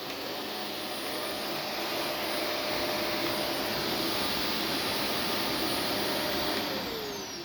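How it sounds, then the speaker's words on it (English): A Shark Navigator NV352 upright vacuum cleaner runs continuously at close range, a loud steady broadband whoosh with a constant high whine and no talking. "here comes the Shark Navigator NV352 in 3,"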